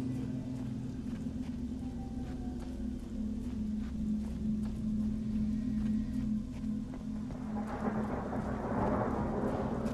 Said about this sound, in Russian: Гром-то какой.